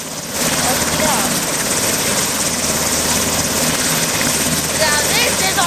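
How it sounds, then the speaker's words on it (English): A helicopter in the video game Teardown flies with a loud, continuous rotor and engine roar, while a person talks excitedly over it. "Now this is a real helicopter."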